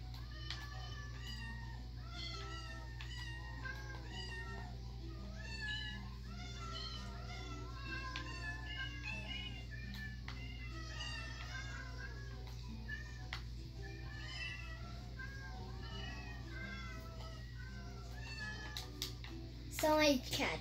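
Many cats spawned from eggs in a video game meow continuously in a dense, overlapping chorus of small mews over a steady low hum, with a voice speaking now and then.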